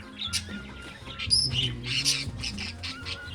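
A cockatiel squawks and chirps in short bursts, fairly close, with a busy mix of bird calls and no talking.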